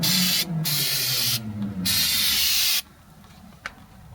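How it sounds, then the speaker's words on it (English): Aerosol brake cleaner sprayed onto brake parts during a pad and rotor replacement, heard as loud, close hissing bursts with short gaps, then quiet with a faint tap. "you can also take your brake cleaner and clean things up a bit"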